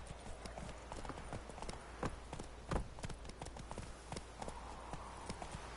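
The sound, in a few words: horse Roach's hooves clip-clopping, from The Witcher video game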